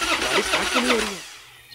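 A car engine cranks repeatedly with a rapid, rhythmic churning, loud and close, then cuts off without catching as the sound drops away near the end.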